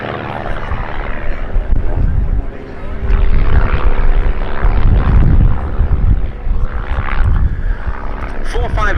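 Aerobatic display aeroplanes, ex-military jet trainers flying in formation at the Duxford summer air show, drone loudly with engine roar swelling and fading as they pass, under a commentator's voice on the public address.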